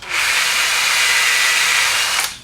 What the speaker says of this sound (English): just use a small drill to get a little hole in there